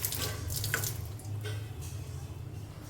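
Tap water runs steadily into a kitchen sink as fish are rinsed, a continuous close splashing stream with a few brief clinks, with no talking.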